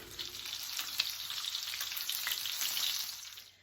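Meatballs frying in a pan for Italian polpette, a steady bright sizzle with faint crackles running throughout, close and fairly quiet, with no talking.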